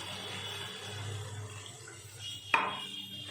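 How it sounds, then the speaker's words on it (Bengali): Water is poured into a pan of potato and taro curry, a soft, steady splashing close by, followed by a sharp metallic clink near the end. "এবার জলটা দিয়ে দেব।"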